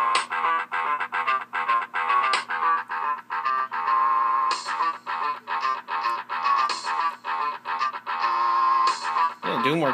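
Doom's MIDI soundtrack plays from a ThinkPad T23 laptop running Windows 98, probably through Sound Blaster-style synthesis: tinny, buzzy synth melody and chords with choppy rhythmic hits, fairly loud and steady with no talking.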